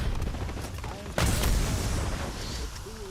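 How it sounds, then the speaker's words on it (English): A grenade in a video game bursts into a loud, rumbling boom that rolls on for a couple of seconds over busy game noise and voices. "Enemy grenade."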